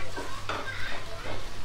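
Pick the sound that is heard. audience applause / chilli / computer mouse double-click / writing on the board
chilli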